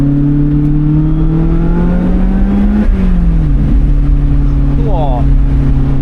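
Car engine pulling in second gear, a loud steady drone that climbs slowly in pitch, dips briefly, then holds steady under faint road rumble.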